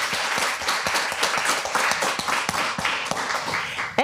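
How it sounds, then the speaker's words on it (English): Audience at a live pitch show for an art startup competition applauds steadily, a dense wash of many hands clapping with scattered louder claps, sustained throughout at a fairly loud, even level. "So let's give a big round of applause for Tim."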